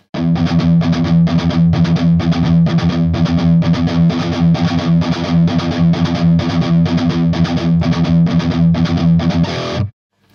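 Electric guitar played steadily in a fast, chugging rhythm, with an overdrive pedal switched on partway through the playing; loud and close throughout, stopping abruptly at the end.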